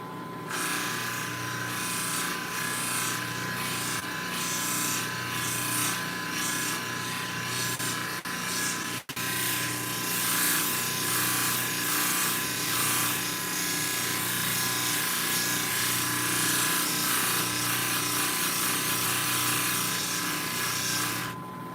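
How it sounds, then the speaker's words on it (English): A Cab King cabbing machine polishes a piece of opal on a 3000 grit wheel, a steady close motor whir with gritty hissing contact noise, continuous and even throughout with one brief click. "polishing up this piece of Opal using the Cab King polisher"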